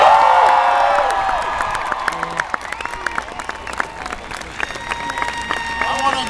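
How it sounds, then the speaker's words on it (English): Crowd at a Barack Obama rally at Michigan State University (MSU) applauds and cheers, a loud swell fading into scattered claps and shouts while voices talk over it. "Please give a huge round of applause to Governor Jennifer Granholm."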